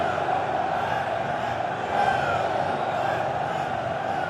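Corinthians supporters fill a football stadium with a steady, loud wash of crowd noise and cheering, a continuous roar with no breaks.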